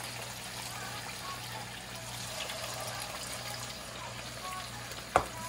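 Flattened rice (chira) fries in hot oil with a faint, steady, soft sizzle throughout. One brief click of a utensil comes near the end.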